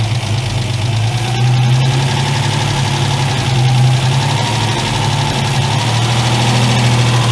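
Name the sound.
Ford Capri MK1 engine running after sitting eight years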